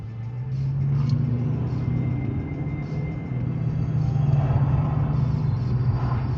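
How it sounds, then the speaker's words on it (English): A bus with badly worn brakes rumbles past, a loud, low, steady roar that swells and holds for several seconds like a passing train, with no talking over it. "Somebody's brakes were so bad it sounded like a train going by."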